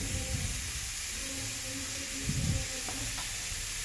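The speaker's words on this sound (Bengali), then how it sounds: "কড়াইয়ে আমি সাদা তেল দিয়েছি, 5 ফোড়ন দিয়েছি, দিয়ে সবজিগুলো তুলে দিচ্ছি" Mixed vegetables such as papaya, pumpkin and potato frying in white oil with five-spice tempering in a kadai, giving a steady close sizzle and hiss with faint stirring knocks, no voices.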